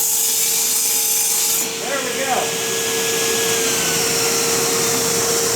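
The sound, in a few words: table saw cutting wood with vacuum cleaner running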